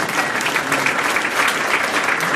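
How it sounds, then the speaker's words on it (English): Brisk, dense applause from a community demo day audience, loud and steady for a couple of seconds with no voices over it. "So I would clap for him, if not for anyone else"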